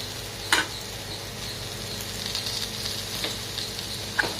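Ivy gourd (kovakkai) fry with chilli powder sizzles softly in a pan, a steady faint crackle with a sharp clink near the start and a few light scrapes, no talking.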